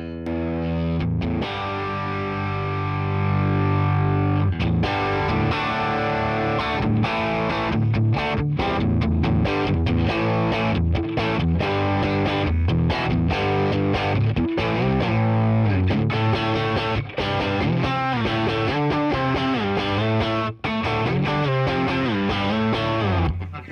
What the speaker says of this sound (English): I just don't call it a distortion pedal, but it's a heavy OD.